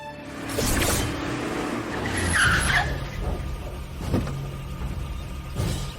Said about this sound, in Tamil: அண்ணா, வண்டி சத்தம் கேக்குது, வந்துட்டாங்கன்னு நினைக்கிறேன்